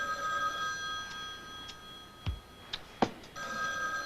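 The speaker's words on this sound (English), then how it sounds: "Why don't you answer the phone, darling?" A telephone rings in a quiet room with a steady tone that stops and then starts again, while a few faint knocks and movements sound in the gap.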